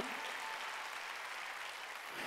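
Continuous applause from a church congregation during a Sunday worship service, a dense wash of clapping that stays level throughout the short stretch.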